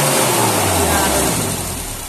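Toyota Kijang engine with a faulty ignition coil, held at high RPM, a steady loud close drone that eases slightly toward the end.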